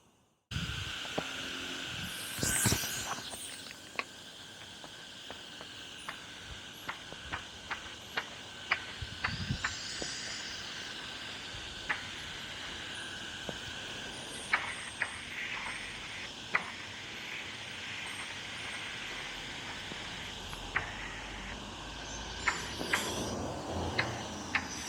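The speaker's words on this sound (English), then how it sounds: "I think this compressor needs to go on a minute" A workshop air compressor runs steadily throughout while a 1953 Mobylette AV33 handlebar is prepared for powder coating, a constant mechanical hiss and hum broken by scattered sharp ticks and clicks, with a brief louder burst near the start and end.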